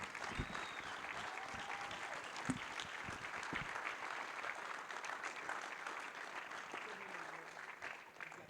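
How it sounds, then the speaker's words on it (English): Sustained audience applause at a motorsports tribute award event, a dense steady wash of many hands clapping with a few louder claps standing out, continuing evenly throughout. "Give a round of applause."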